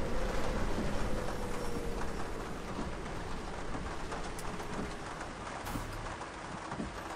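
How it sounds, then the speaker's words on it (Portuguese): Steady rain hisses in Bus Driver Simulator 22, a broad, even wash of noise over a low rumbling engine drone that lasts the whole stretch. "O barulhinho da chuva."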